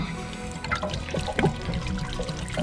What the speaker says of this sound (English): and now your hot water tank's draining.